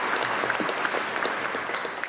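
Steady applause from an audience at Minnesota's State of the State address, many hands clapping in a dense, even patter with a few sharper claps close by.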